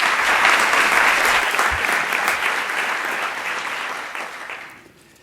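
A crowd at a Catholic university vision ceremony gives a bishop a warm round of applause, dense clapping that holds steady and then tapers off into quiet.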